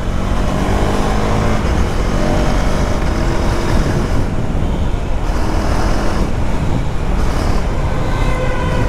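A 2024 KTM Duke 390 motorcycle ridden in track mode makes a loud, continuous, dense roar of engine and wind with slight surges in intensity throughout.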